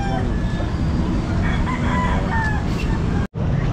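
A rooster crows at a busy pet market, a loud near call that rises and stretches over a few seconds above a steady crowd murmur and some voices, then cuts off briefly.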